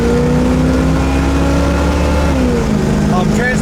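A 1969 Chevelle accelerates hard through the gears, its loud engine droning and climbing in pitch before a shift drops the revs and it pulls again.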